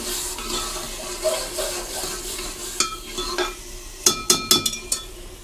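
Tomato and green chili paste frying with onions in a pan, a steady soft sizzle under repeated stirring, with a burst of sharp spoon-on-pan clinks toward the end.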